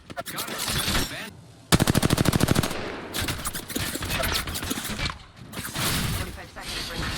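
Bursts of rapid automatic gunfire and single shots from the Apex Legends battle royale game, loud and close, one sustained machine-gun volley among other clatter and game effects.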